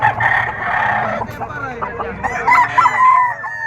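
A bull stag rooster crows loudly and close at a livestock market in Padre Garcia, Batangas, one long drawn-out call with murmuring voices in the background.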